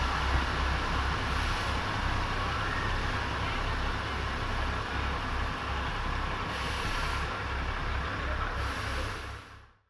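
The Matheran toy train creeps at walking pace through heavy monsoon rain, a steady dense rumble and hiss of rain and rolling wheels, loud and continuous before cutting off.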